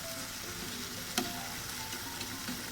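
Rohu fish cooking in a pan, a steady moderate sizzle with a single brief tap of a utensil near the middle, no voices.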